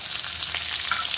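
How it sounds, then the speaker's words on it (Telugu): Curry leaves, mustard seeds and dried red chillies crackle and sizzle in hot oil as a tempering for ridge gourd curry, a loud, close, continuous hiss with scattered pops. "దీంట్లోనే కరివేపాకు కూడా వేసేద్దాం."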